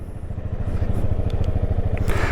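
Vespa GTS 500 scooter engine running steadily just after starting, a close, even low-pitched pulsing idle with light mechanical clatter throughout.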